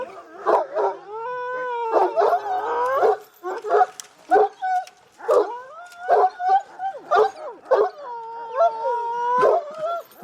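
Several large Kangal dogs bark and howl close by in rapid, overlapping bursts, deep barks mixed with drawn-out wavering howls and whines, continuous and agitated.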